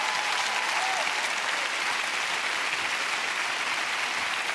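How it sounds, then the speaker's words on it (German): A studio audience applauds loudly and steadily, a dense, continuous wash of many clapping hands that holds at an even level throughout with no pauses. "bitte begrüßt mit einem tosenden Applaus unsere 5 Maßtrunkenbolde"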